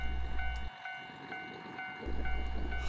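A train on the Soya Main Line pulls away from Mizuho Station in Hokkaido with a low rumble and a steady electric whine, fairly quiet, the rumble dropping out briefly before returning.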